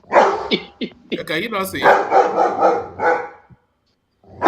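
A dog barking on a television, a run of sharp close barks and yips with voices talking over and around them, before a brief silence.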